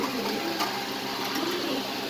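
A pair of American Lark pigeons at a pigeon farm coo softly under a steady hiss of background noise, the low murmuring calls faint and continuous.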